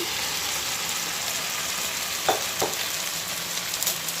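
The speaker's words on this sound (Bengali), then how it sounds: "এবার দেখুন আমি এই ভাজা চিকেনগুলো সব এই কড়ার মধ্যে দিয়ে দিচ্ছি" Fried chicken is tossed into sauce in a wok for chilli chicken, giving a steady loud sizzle with a few scraping stirs of the spatula and no talk.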